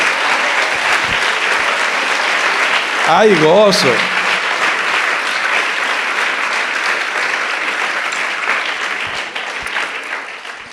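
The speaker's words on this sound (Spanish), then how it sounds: "Vamos a darle un aplauso al Rey." A church congregation applauds steadily and loudly throughout, with a voice briefly calling out in Spanish midway.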